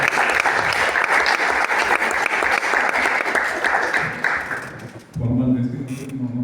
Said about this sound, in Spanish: Así que un aplauso también para él.